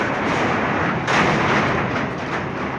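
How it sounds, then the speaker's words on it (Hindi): Steel rebar rods clang and bang as workers lay reinforcement mesh for the roof of a mosque under construction in Kemari, Karachi, giving a loud, dense, continuous metallic din with a sharper burst partway through. "आप शोर सुन सकते हैं, कितना शोर आ रहा है सरियों का।"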